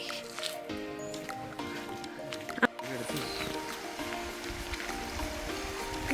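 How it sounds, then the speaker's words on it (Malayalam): A large forest stream near a tunnel rushes in a steady, loud broadband roar that runs through the whole stretch, with people talking and a few tonal sounds layered over it. "ഗൈസ് അവിടെ വലിയ തോടാന്ന് തോന്നുന്നു ഭയങ്കര ഒച്ച കേൾക്കുന്നുണ്ട്"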